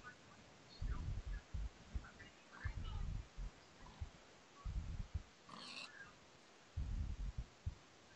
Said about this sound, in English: There is a pig there, though.